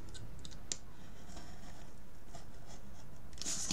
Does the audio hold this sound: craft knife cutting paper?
yes